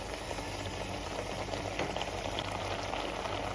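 Water boils down in a pot while gizzada filling cooks, giving a steady, faint bubbling hiss that continues unbroken with no voices.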